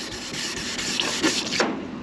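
Wet sanding the guide-coated paint of a 1985 Mustang GT by hand, a continuous close rubbing rasp with the back-and-forth strokes faintly audible, no talking.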